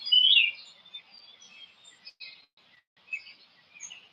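A cardinal gives a series of high, thin chirps, fairly close, with short gaps between calls against an otherwise silent background.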